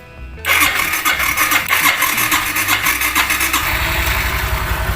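A Kawasaki Blitz R motorcycle cranks on its electric starter and catches, its engine settling into a steady close, loud running idle with a low rhythmic pulse, no voices.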